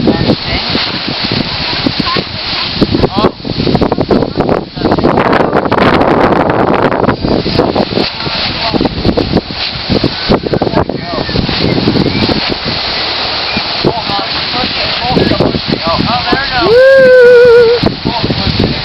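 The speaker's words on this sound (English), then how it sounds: "we're having a lot of wind today," Strong gusty wind from a hurricane buffets the microphone outdoors in Kentucky, roaring loudly and unevenly throughout, with voices heard faintly at times.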